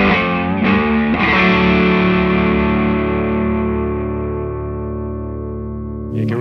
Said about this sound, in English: Overdrive, neck, pickup.